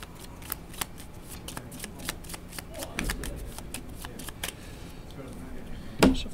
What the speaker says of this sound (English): I'm going to shuffle up my discard and make a new deck